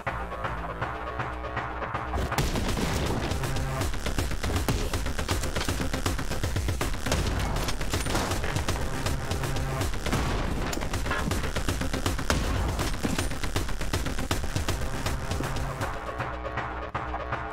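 Enemy shotgun fire in the first-person action game Anger Foot: a dense, loud, nearly unbroken barrage of blasts and booms sustained throughout, with the action kicking in sharply after a quieter opening.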